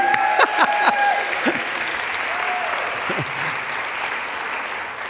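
A church congregation stands and cheers, with sustained applause and scattered whoops swelling early and then settling into a steady clapping roar.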